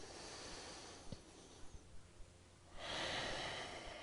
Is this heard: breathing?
yes